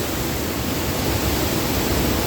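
An outdoor waterfall roars as a loud, dense, unbroken wash of falling water, constant from start to finish with no voices.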